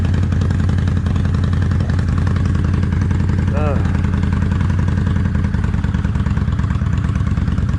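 Kawasaki Vulcan 800 Classic motorcycle engine warming up and running at raised RPM, a loud, steady, close throbbing rumble throughout with someone talking over it.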